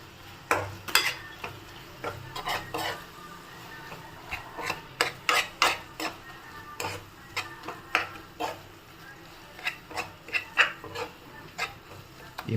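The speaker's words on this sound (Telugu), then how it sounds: "ఈ మసాలా అంతా పచ్చి వాసన పోయే వరకు బాగా అటువైపు ఇటువైపు 4 వైపు క్లియర్గా మిక్స్ చేసుకోవాలి" A spoon scrapes and rubs around a pan as garam masala, coriander powder, chili powder and sambar powder are stirred for tomato curry. The scrapes and light clinks are close and irregular, with no talking.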